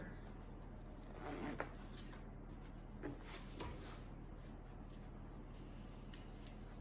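A zipper pull is slid along a sewing project during stitching, giving faint, brief scratchy zips against a steady background hum of a quiet room.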